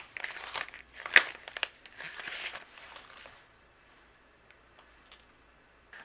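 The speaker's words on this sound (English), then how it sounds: "I'm going to use the coordinating die and we'll cut this out." Paper or cardstock being run through a die-cutting setup with a coordinating die, giving crinkly, crunchy handling noises in the first half, then near quiet with a few faint taps.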